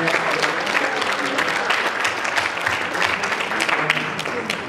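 An awards gala crowd gives a steady round of applause, a dense continuous wash of clapping at even loudness for the whole stretch, with faint voices mixed in.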